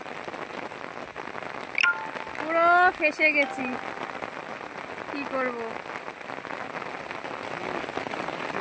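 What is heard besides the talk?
rain falling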